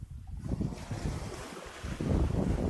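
Surf washing over a rocky beach with wind buffeting the microphone, a continuous broadband roar that swells louder toward the end, close and fairly loud with no voices.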